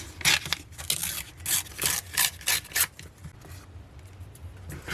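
Scissors cutting paper pieces apart for a distressed Valentine's book, a series of close crisp snipping and rustling strokes in quick bursts, then quieter paper handling.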